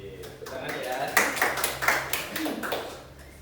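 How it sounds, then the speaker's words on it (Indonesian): A small audience at an Indonesian teacher-training presentation claps in a short, scattered burst of moderate loudness that rises and then fades after a few seconds. "Tepuk tangan ya"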